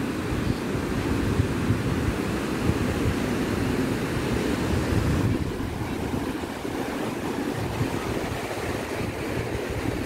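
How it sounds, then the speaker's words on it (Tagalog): Ocean waves wash steadily onto a resort beach in Bohol, a broad continuous roar of surf mixed with wind noise, loud and close, with no talking. "parang malaki ang alon ha."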